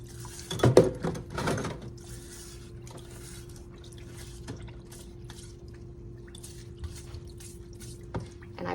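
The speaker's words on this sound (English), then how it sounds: "I need to ensure that I'm getting right into all of these holes here underneath the waterline with my scrubbing brush" A scrubbing brush works a surgical instrument's small holes beneath the waterline in a sink, giving wet squishing and dripping bursts early on, then quieter lapping water with a faint steady hum.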